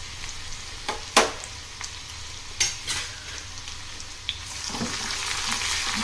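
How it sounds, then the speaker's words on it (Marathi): Ginger and garlic frying in about a spoonful of oil for a veg Manchurian: a steady soft sizzle with a few sharp clicks of a spoon against the pan, louder crackling toward the end, no talk. "आपलं तेल आपण 1 चमचाभर घेतलेलं आहे, त्याच्यात आलं आणि लसूण हे दोन्ही घालणार आहोत"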